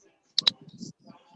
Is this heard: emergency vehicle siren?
no